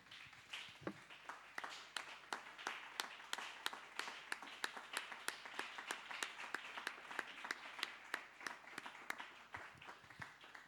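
A church congregation at an evangelical gathering claps together for the Lord in a steady, even rhythm, many hands sounding at a moderate distance in a large hall, with no voices over it.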